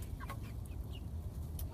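Soft, low clucking of a young barred Plymouth Rock hen close by, a few quiet murmuring notes over a steady low background hum.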